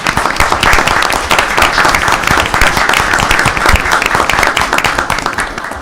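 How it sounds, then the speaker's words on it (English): Applause at a city council meeting: a crowd clapping loudly and continuously, close and full, for several seconds with no voices over it. "So how about a round of applause for October 15th?"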